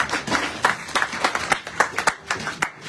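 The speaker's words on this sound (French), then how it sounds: "On peut applaudir cette parole de nous." A church congregation claps together in a dense, irregular burst of applause, close and lively, lasting a few seconds before thinning out.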